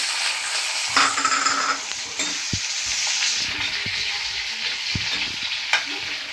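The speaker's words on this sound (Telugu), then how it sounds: "ఇప్పుడు తరిగిన ఉల్లిపాయలన్నీ వేసేస్తున్నాను" Chopped onions frying in a pan for prawn curry, a close crackling sizzle punctuated by several sharp taps and scrapes of stirring against the pan. No talking.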